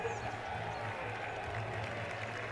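A golf gallery at an Olympic round applauds a birdie, a soft, distant patter of clapping with crowd murmur, fairly quiet throughout.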